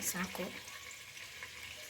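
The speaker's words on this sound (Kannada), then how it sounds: "ಈಗ ಎಣ್ಣೆ ಎಷ್ಟು ಬೇಕು ಅಷ್ಟು ಬಿರಿಯಾನಿಗೆ ಹಾಕ್ತಾಯಿದ್ದೀನಿ" Cooking oil poured into a pressure cooker for biryani sizzles with a short burst of crackling and spattering at the start, then settles into a soft, steady hiss up close.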